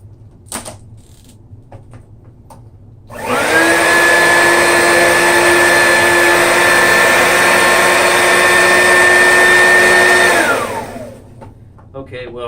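An upright vacuum cleaner, an Oreck XL2800 or Shark NV22, starts up, drones steadily with a loud whine while working over a thick doormat, then spins down, with quiet handling sounds before and after.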